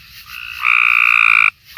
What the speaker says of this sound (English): I found several frogs.